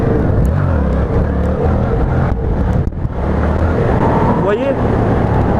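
A Yamaha MT-07 motorcycle engine during wheelie practice, a continuous near rumble with a brief dip as a gear shifts, while a rider talks over it.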